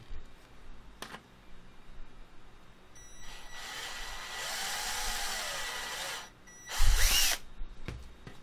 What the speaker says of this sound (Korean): 8mm로 구멍을 뚫고